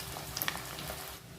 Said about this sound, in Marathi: तेल खूप छान गरम झालेलं आहे आणि आलं आपण हे असं तळून काढायचं आहे